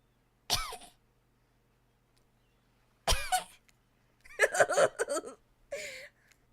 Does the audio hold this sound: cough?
yes